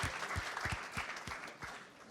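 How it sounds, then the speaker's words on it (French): Competitors applauding as a van arrives at a racing event, scattered clapping from a small group with distinct individual claps, fairly quiet and brief. "Et le van arrive sous les applaudissements nourris et chaleureux des concurrents."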